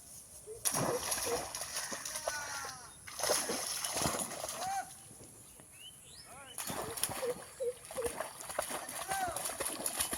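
A dog splashes and paddles through water in bursts of sloshing and splatter, with people talking and calling nearby and a bird faintly in the background.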